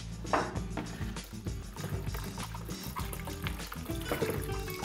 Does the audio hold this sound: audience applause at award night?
no